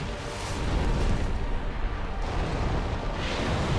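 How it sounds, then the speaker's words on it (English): A dragon's explosive projectile attacks in the video game Dark Souls II make heavy, rumbling booms that swell and roll, loud and dense with low blasts, with no talking. "His projectile attacks like that have a pretty large explosion radius"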